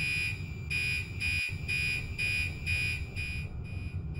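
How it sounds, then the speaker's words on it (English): Horns of an Oxeo inert-gas fire extinguishing system sounding the pre-release alarm, a rapid, regular on-off pulsing tone, loud and steady for several seconds, with one brief click midway. "will set the system into the pre-release state, which will be made apparent by the more rapidly pulsing tone from the horns inside the room"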